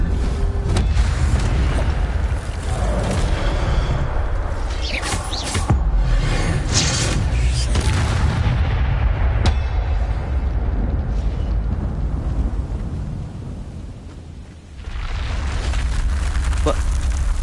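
Expelliarmus spell cast in Hogwarts Legacy, heard as booming, crackling magical blasts that fill the space continuously with a brief dip near the end, under a speaking voice.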